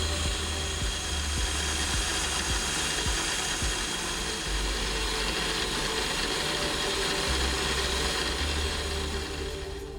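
A milling machine cuts fastener threads into a watch movement's main plate, giving a steady whirring grind with a fine ticking, mechanical texture that runs on without talk.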